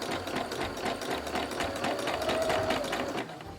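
A sewing machine stitching near the shoulder seam of a garment, a close, steady mechanical whir running continuously for a few seconds.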